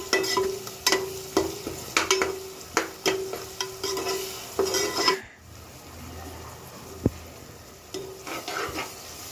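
Liver fry being stirred with turmeric in a pan, a spatula scraping in repeated rhythmic strokes over a steady sizzle, close and clear, pausing briefly midway before stirring resumes.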